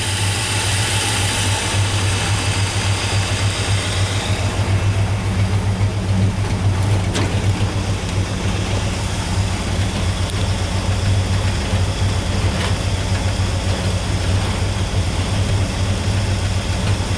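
A 1957 Chevrolet Bel Air V8 idles steadily, close up, with an even low rumble throughout and no talking.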